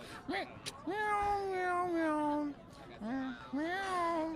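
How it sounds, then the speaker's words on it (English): A cat meows close by in several drawn-out, rising and falling calls with short pauses between them, clear and fairly loud. "Again, more meowing tonight?"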